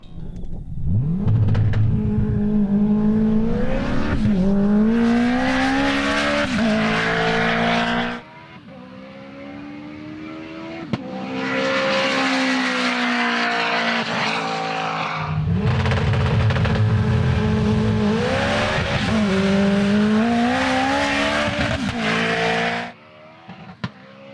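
A turbocharged four-cylinder drag car with four-wheel drive, a 71mm turbo and up to 800 horsepower on 35 psi launches at an airport strip, its engine roaring loudly through rising gear pulls in two long runs with a lull between.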